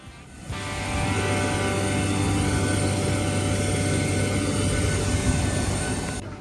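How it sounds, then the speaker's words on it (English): A Boeing 737-800 airliner sits on the apron with a loud, steady engine and machinery roar that rises quickly and holds for several seconds before cutting off. "welcome aboard just one of Virgin Australia's 79-strong fleet of stalwart Boeing 737-800 aircraft"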